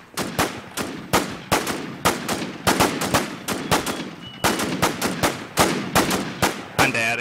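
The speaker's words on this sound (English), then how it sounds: "I got a shotgun. I'm taking shots on him" Shotgun blasts in the online shooter Infestation ring out in a fast, steady series of loud, sharp reports, each with a short tail, keeping a regular pace throughout.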